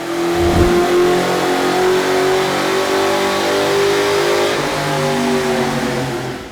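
Automatic 2000 Mustang GT V8 with Airaid intake and Flowmaster cat-back exhaust, revving hard on a dyno, a loud, close, sustained engine roar climbing in pitch and holding steady across the pull.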